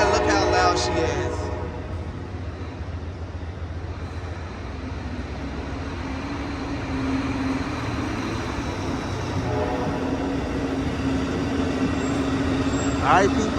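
Amtrak Coast Starlight train led by an ALC-42 locomotive at Oakland Jack London, a loud steady engine roar and rolling rumble with a horn note rising late, close by.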